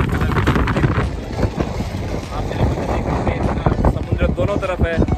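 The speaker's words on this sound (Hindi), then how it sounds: "इतनी तेज हवा चल रही है" Strong wind blowing across a sea coast near Dhanushkodi on India's eastern coast, a loud continuous buffeting roar with wind noise hitting the microphone, and someone talking over it throughout.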